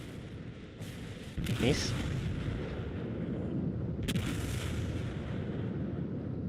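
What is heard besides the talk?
warship turrets firing in the video game World of Warships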